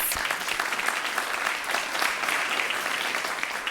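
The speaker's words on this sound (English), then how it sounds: "Can you give them a round of applause, please?" Audience at a digital economy conference applauds to welcome online viewers, a continuous dense patter of many hands clapping in a large room, steady in level for a few seconds.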